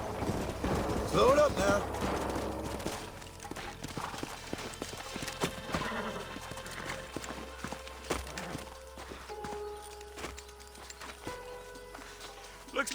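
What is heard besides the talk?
horses walking in a video game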